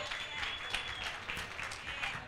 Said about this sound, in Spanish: Quiero darle la bienvenida y un gran aplauso a Asu.